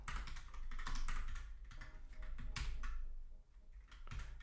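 Rapid typing on a computer keyboard, dense clusters of close, clicking keystrokes that briefly pause and then resume, fairly quiet and heard alone without speech.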